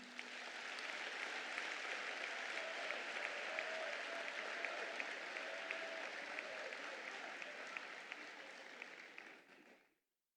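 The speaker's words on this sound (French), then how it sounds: "Je vous demande de les applaudir chaudement." Delegates at a PDCI-RDA party congress in Côte d'Ivoire break into sustained, dense applause from a large hall crowd, steady for about nine seconds before it cuts off abruptly.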